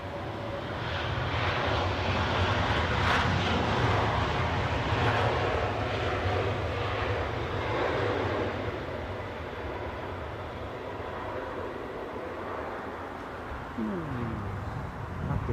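Boeing 787 Dreamliner airliner at London Heathrow airport, a broad roaring jet engine rush that holds steady and then eases off slightly, with faint voices in the background.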